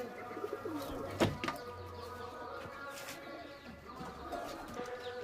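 Kaldhuma pigeons at a loft give soft, low coos against a busy background, with a sharp knock near the start and faint, scattered chirps.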